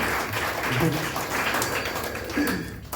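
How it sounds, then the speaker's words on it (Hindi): An audience at a Gayatri Pariwar Sunday gathering claps together in a thick, continuous burst of applause lasting a few seconds, with voices mixed in. "ताली बजाइए इस बात के लिए।"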